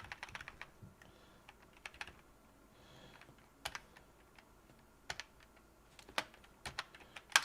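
Keys clatter on a computer keyboard during BIOS setup, with irregular bursts of close, crisp keystrokes and short pauses over a quiet background, and no voices.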